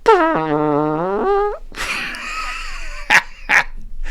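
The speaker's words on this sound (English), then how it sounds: "Yes, it was a fart machine." A fart machine toy set off by remote blares a long, wobbling, pitched raspberry, followed by a noisier sputtering burst and two short final blasts, loud and close.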